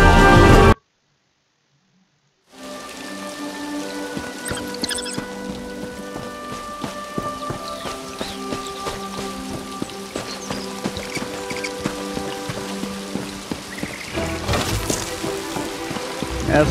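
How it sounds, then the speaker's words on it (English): Steady rain falling in the fantasy video game Elder Scrolls Online Summerset, a dense continuous patter with faint musical tones underneath, following a brief silent gap at the start. "Rainy day."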